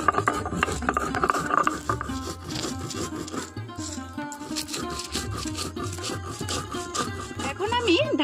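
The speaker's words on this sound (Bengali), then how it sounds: "এইদিকে আমি যেই মশলাটা আমি ভেজে রেখেছিলাম সেটা আমি এখানে শিলনোড়াইতে বেটে" Roasted spices for a mango pickle are ground by hand on a sil nora grinding stone, a rhythmic, gritty scraping and rubbing of stone on stone repeated in quick strokes, with someone talking over it.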